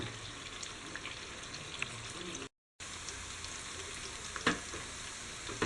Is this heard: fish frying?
yes